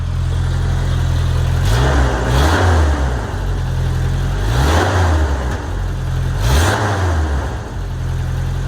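A Toyota pickup's 22RE engine, running rich, idles close by, rising in a few periodic revs and settling back each time; steady mechanical hum throughout, no talking.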